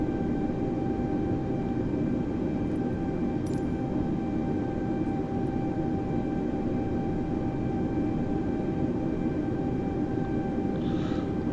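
Airbus A320neo engines spooling for takeoff in Microsoft Flight Simulator 2020, a steady loud jet roar with constant tonal whine holding evenly throughout, with no voices.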